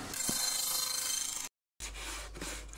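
Close, steady rubbing and rasping of 120-grit sandpaper on wood, broken by a brief silent gap before the scraping resumes.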